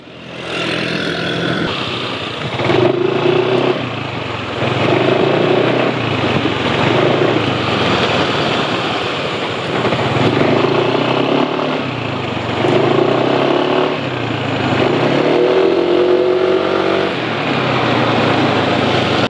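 A four-stroke motorcycle engine running on Hi Power SAE 40 oil idles and revs steadily, a continuous loud mechanical drone with gentle swells in pitch, heard close and alone without talk.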